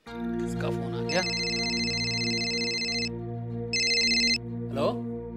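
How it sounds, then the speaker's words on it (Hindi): A telephone rings in a household drama scene, two electronic trilling bursts with a short gap between them, heard over a steady musical background with people's voices around the rings. "किसका फोन आ गया?"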